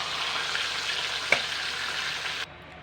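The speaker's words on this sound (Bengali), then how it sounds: "এই একইভাবে আমি লাল লাল করে ভেজে নেব।" Fish frying in hot oil gives off a steady, close hiss with one sharp pop near the middle, then cuts off abruptly near the end.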